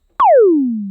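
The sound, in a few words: high pitched laser-like synth kick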